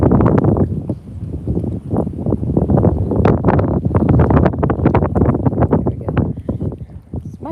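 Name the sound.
wind blowing outdoors while fishing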